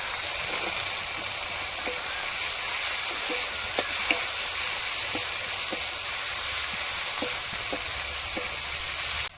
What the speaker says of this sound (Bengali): ভালো করে এবার কষিয়ে নেব। কাঁচা লঙ্কা আর তার সাথে কেটে রাখা ক্যাপসিকাম।